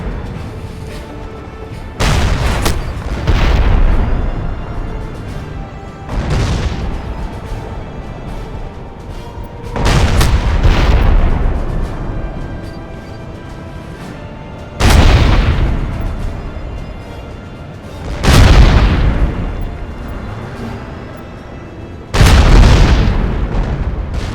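A tank cannon fires in the video game Crysis, six heavy booming blasts spaced a few seconds apart, each with a long rumbling decay over continuous engine rumble.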